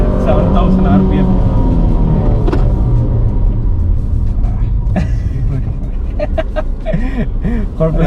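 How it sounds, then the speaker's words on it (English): A Ford Fiesta 1.6 Duratec engine revving hard toward 7000 RPM, a loud continuous rising rumble heard close, with people talking over it. "പയ്യൊക്കെ ഈസിയാണ് വണ്ടിക്ക്. 7000 RPM."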